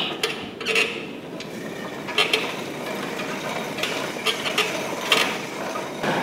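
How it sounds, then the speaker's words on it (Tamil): Someone pedals an exercise bike in a college gym, producing a continuous mechanical whir with repeated ratcheting clicks and small metallic knocks close by. "சைக்கிளிங் இருக்குது, நம்ம சைக்கிளிங் பண்ணி பார்க்கலாம்."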